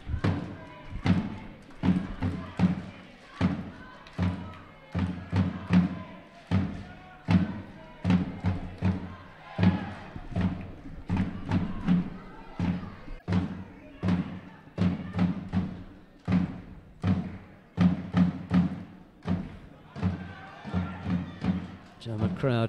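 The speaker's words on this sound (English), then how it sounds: "Crowd trying to get behind Sebastian Seidl with the incessant drumming and thumping away" At a judo Grand Prix bronze-medal bout in Düsseldorf, the crowd drums and thumps incessantly in a steady pounding rhythm through the arena, with commentators talking over it.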